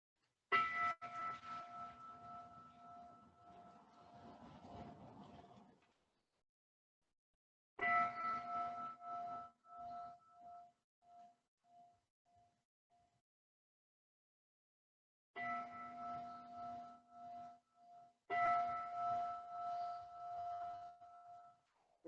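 Bells at a Soto Zen ordination ceremony in Atlanta ring in three separate spells of clear, resonant strikes, each tone left to decay slowly into silence in a quiet hall.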